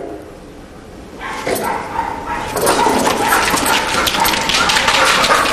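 Dogs barking and yipping during play at a first meeting, starting quietly then turning into a loud, busy stretch of overlapping yips and barks from about the second second onward, close by.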